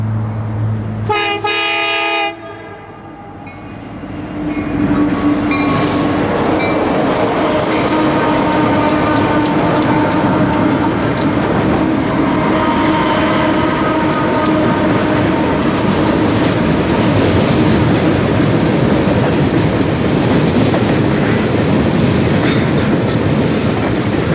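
A Union Pacific train on the Overland Route, Rawlins and Evanston subdivisions, opens with a horn blast, then a loud steady rumble of cars rolling along the rails with continuous clatter, close by and without speech.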